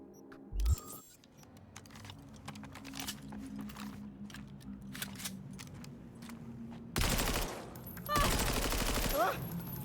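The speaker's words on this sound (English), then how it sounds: "Why don't we just pick these out, shoot them, and see what they feel like to shoot" Pistol and precision rifle shots fire in the video game Cyberpunk 2077, with a few sharp bursts near the start and two loud, dense volleys later, over low game ambience and intermittent talk.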